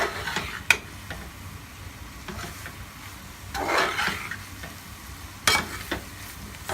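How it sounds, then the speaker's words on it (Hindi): Eggs for anda bhurji being stirred in a pan over a raised gas flame, giving a low steady sizzle with a few sharp utensil scrapes and taps, alone and without talk. "अंडे को अच्छी तरह मिक्स कर लेंगे।"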